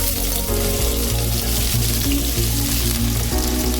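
Two small onions sautéing in about two tablespoons of coconut oil in a pan for a mutton curry, giving a steady, close sizzle that runs through the whole stretch with faint clinks and no talking.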